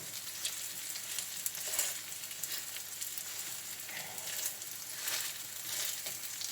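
Crispy veggie pancakes fry in a little oil in a pan over medium to medium-high heat, giving an even, quiet sizzle with faint crackles throughout.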